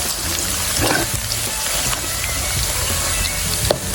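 Garlic sizzles steadily in hot oil in a wok until golden, a continuous close crackling hiss with occasional small pops.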